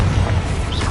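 A Confringo spell's blast in a Harry Potter video game lands as a short, loud, deep booming rumble lasting under a second.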